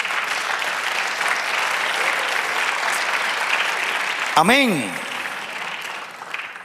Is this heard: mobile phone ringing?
no